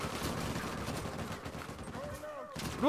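Heavy gunfire from a big gun in an Uncharted 4 multiplayer match, a steady rumbling barrage that runs the whole time under other game noise and a few brief voice sounds.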